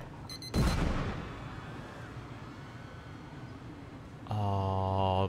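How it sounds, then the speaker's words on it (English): A guard shooting a suicide bomber in the video game Papers, Please, one sharp loud blast followed by a lingering rumbling tail, then a buzzing tonal game sound near the end, with no talking. "Shoot him, guard, shoot him."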